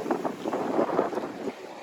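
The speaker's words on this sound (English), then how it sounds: "A bit windy, but it's nice. Nice breeze." Steady coastal wind at a windsurfing spot on Bonaire buffets the microphone with a continuous rushing roar, a faint voice barely audible beneath it.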